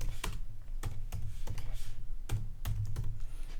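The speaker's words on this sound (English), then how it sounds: "The way to open Jupyter Notebook was just typing Jupyter Notebook." Computer keyboard typing, a quick irregular run of crisp close keystrokes clicking alone for a few seconds.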